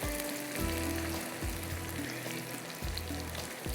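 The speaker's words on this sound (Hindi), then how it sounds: "फिर ग्रेवी के लिए हमने चिकन स्टॉक ले लिया, वो हम इसमें डालेंगे।" Chicken stock poured into a pan of sizzling red chilli paste for a kalonji baingan gravy, giving a loud, steady frying hiss close by with rhythmic stirring scrapes and no talk.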